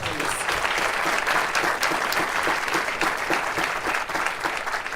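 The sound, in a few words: applause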